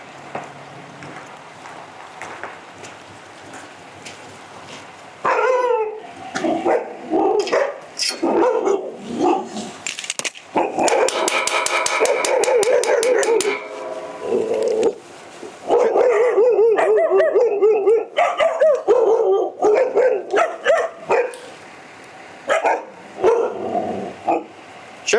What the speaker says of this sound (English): they got dogs in there.